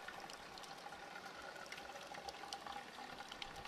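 Water runs steadily from a roadside drinking fountain, a faint continuous splashing and trickling stream with no talk over it.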